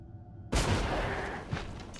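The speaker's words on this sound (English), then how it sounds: "Super crack grenade." A super crack grenade explodes in the Deathwatch video game, a sudden loud broadband blast that cuts in from near silence and rolls on as a sustained rumbling roar with a second smaller burst shortly after.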